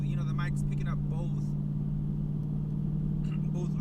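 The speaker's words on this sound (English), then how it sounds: "It's kind of hard for you to hear me because my car is so loud." Loud steady engine drone and road rumble fill the cabin of a moving car, a constant low hum running throughout beneath a person talking over it.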